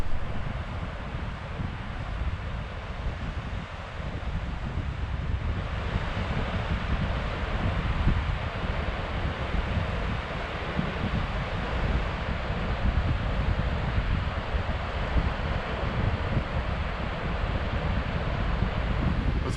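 Wind gusts steadily across a microphone at the coast, a constant rough roar with low rumble and surf-like wash, loud and unbroken, with no talk.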